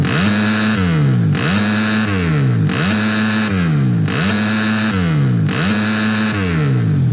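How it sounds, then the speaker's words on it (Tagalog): A motorcycle in the MX vs ATV Legends game gives five loud, evenly spaced victory revs, each rising sharply and then falling away, heard alone and close. "Ang victory ko sa victory rev."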